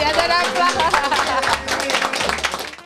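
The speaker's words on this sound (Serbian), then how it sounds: "Jedan aplauz!" Applause for a birthday guest at a family gathering, a burst of hand clapping from a small crowd lasting a few seconds, mixed with voices and cheering.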